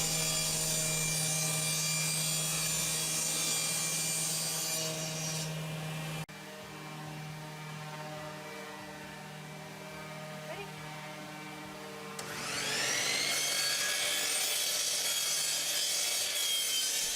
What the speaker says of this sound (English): Now Maya is ripping down some of the 3/4 inch plywood